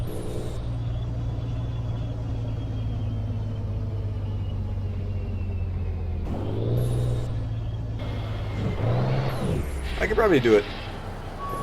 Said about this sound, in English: I'm actually just gonna turn the entire truck around.